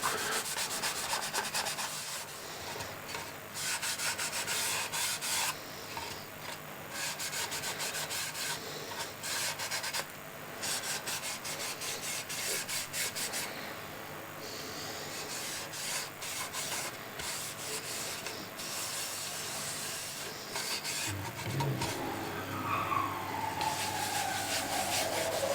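Tung oil finish rubbed by hand over walnut and cherry plates, a steady, close scrubbing friction that runs unbroken for the whole stretch, fairly loud with a brief squeaky streak near the end.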